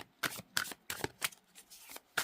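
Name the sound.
shuffling glossy tarot cards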